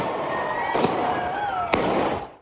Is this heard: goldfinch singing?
no